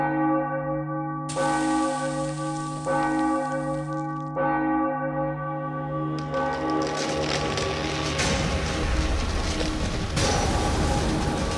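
Church bells peal loudly in the Enigmatis hidden-object game, rich sustained tones striking repeatedly, then a dense clanging swell of overlapping bells builds over the final seconds.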